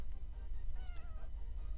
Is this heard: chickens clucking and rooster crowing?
no